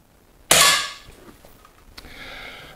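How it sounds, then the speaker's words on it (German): One sharp shot from a Weihrauch HW 100 S air rifle firing lead-free pellets cracks out nearby and fades quickly, followed by a faint metallic click and a soft ringing tone. "ich mache mal ein paar Schuss"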